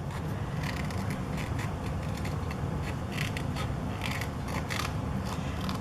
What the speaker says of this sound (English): And I use the Tim Holtz scissors.